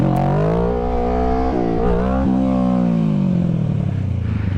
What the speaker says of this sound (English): It's like over-revving the piss out of your bike.